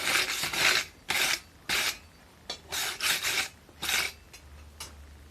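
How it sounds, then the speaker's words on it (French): A freshly forged goblin-style knife blade is scrubbed with a brush in a string of short, rasping strokes, about a dozen uneven scrapes with brief gaps, close and moderately loud. "un coup de brosse"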